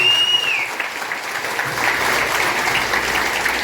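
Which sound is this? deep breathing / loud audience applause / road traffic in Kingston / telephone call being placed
loud audience applause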